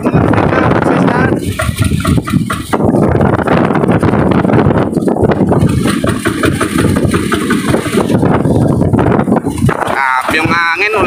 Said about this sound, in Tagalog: Yung hangin, walang tigil.